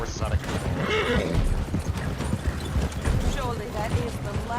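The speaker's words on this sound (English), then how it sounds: "That guy's horse is out of control." A horse in a western-style video game neighs and whinnies repeatedly while hooves clip-clop rapidly in a gallop, loud and busy, with a voice talking over the action.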